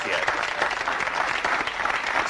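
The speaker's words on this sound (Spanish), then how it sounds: "Un fuerte aplauso para Charlie Laval, presidente de los Nuggets." An audience applauds throughout, a steady dense wash of clapping at moderate distance for a company president introduced in a 1987 action film.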